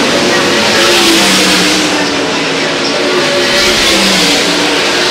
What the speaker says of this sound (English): Now Brown with about 6 to 8 car lengths as they go through 3 and 4.